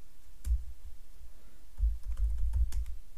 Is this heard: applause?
no